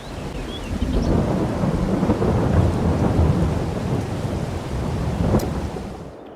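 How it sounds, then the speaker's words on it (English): Steady heavy rain with rolling low thunder in the farming game Farming Simulator 22, loud and continuous, fading at the end. "So we'll just wait the rain out here"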